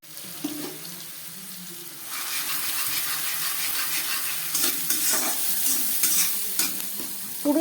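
Black cumin, a small onion, garlic cloves and two chilies hitting a very hot wok, a quiet start that jumps into loud, continuous sizzling with occasional clinks and stirring scrapes.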